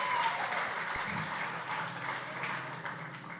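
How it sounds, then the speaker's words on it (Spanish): Applause from the audience at a press conference for a pre-superior basketball tournament, steady and fairly soft clapping throughout. "para el cual pido un fuerte aplauso."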